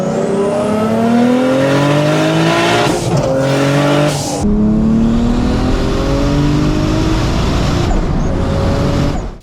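Turbocharged 1JZ engine in a Datsun 280Z winds up hard through the gears, rising pitch broken by a couple of sharp shift breaks, loud and close, with a tire squeal.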